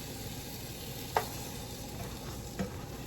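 French toast made with Just Egg sizzles steadily in a hot pan, broken by two soft thuds as the slices are flipped, one early and a fainter one near the end, with no talking.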